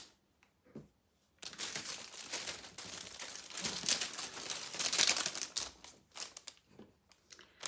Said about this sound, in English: I will just be crinkling for about a couple of seconds